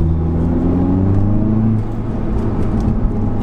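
Inside a moving Audi S1, a steady low engine rumble and road drone continue throughout, with a slight dip in revs partway through and no voices.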